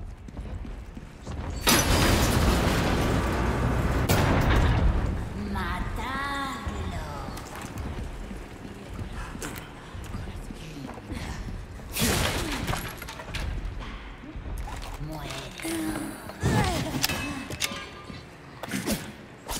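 Cannon firing in Resident Evil 4 during a fight against a giant, with several heavy booming blasts and crashing impacts spaced apart amid ongoing game sound effects.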